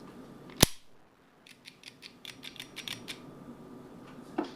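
A Smith & Wesson 639 pistol gives one sharp, loud metallic click. A quieter series of rapid mechanical clicks and ratcheting follows, then one more click at the end, all close and with no voices.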